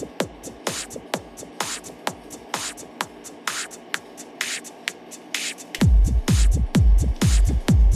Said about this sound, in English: And the high pass sounds equally awesome.